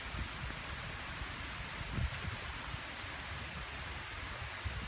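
Floodwater carrying lots of wood rushes beneath Catarman Plaridel Bridge as a steady, dense roar of broadband noise, constant and fairly distant with no pauses.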